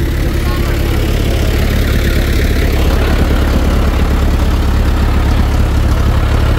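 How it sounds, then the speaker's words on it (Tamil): A tractor engine runs loudly and steadily, a continuous low rumbling drone with no breaks. "இது பாருங்க டிராக்டர் வேலை இப்போ நடந்து கொண்டே இருக்குது."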